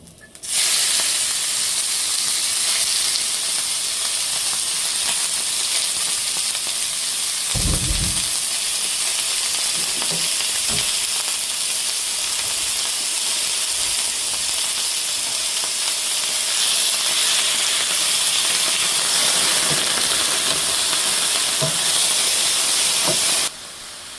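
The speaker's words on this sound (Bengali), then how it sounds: "সয়াবিন তেল দিলাম। এখন আমি চিকেনটা দিয়ে দেবো।" Chicken pieces frying in hot soybean oil for spicy fried rice, a loud, continuous, close hiss and sizzle that starts abruptly and cuts off near the end, with a few brief knocks along the way.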